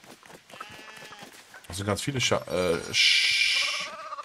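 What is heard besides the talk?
sheep bleating in the video game LEGO Fortnite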